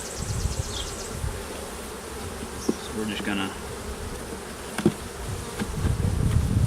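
Honeybees buzz continuously close by in a busy swarm around an open hive, with brief knocks and clatter, and a voice speaks a few words over the humming.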